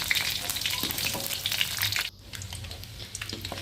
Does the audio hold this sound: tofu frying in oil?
yes